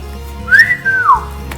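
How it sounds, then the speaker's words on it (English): A person whistles a single clear rising-then-falling tune, close and fairly loud, lasting about a second with a brief break in the middle, in a quiet indoor setting with no talking. "You can whistle also."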